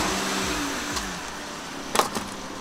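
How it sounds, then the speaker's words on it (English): A van rolls over a Warrior X Pro flashlight, a steady mid-pitched engine hum carrying throughout with a brief sharp crunch or clatter near the end, fairly close. "let's run over it with the van"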